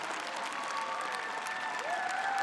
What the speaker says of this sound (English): can we get one final round of applause for our top 10 seniors?